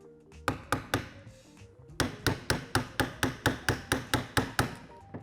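A non-marring hammer strikes a punch to drive the trigger assembly pin out of a Dickinson Arms XX3D-M-2 shotgun braced on a 2x4: a few spaced taps, then a steady run of about a dozen sharp, close metallic knocks.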